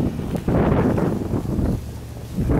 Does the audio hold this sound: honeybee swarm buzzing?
no